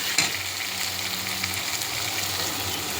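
Beans, green chili and peas sizzle and fry steadily in a pan while being stirred for dal khichdi, a continuous close crackle with soft scraping throughout.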